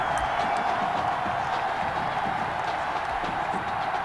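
Steady stadium crowd buzz in the Madden 21 football video game, a continuous murmur of a large audience after a big play, holding at an even level throughout with no clear talk on top.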